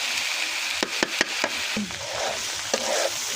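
Watermelon rind frying in a pan at home, a steady close sizzle with a few sharp clicks and stirring taps scattered through it, no talking.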